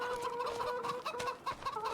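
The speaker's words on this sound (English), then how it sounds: "We got 178 chickens" Chickens cluck steadily in a crowded coop on a farm in the Pichonniere Valley farming game, a dense overlapping chorus of short clucks with no voices over it.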